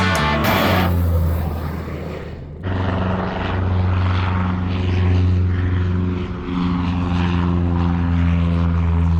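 A 2023 Diamond DA42 Twin Star propeller airplane's twin engines drone steadily and loudly up close, with a strong low harmonic hum and a shift in pitch early on.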